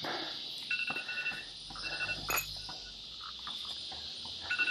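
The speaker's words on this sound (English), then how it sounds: "And that's my alarm." A phone alarm goes off faintly in a garage during a 2007 Mazda 6 engine swap: a thin, high electronic chirping tone repeats steadily over low background noise and some clinks.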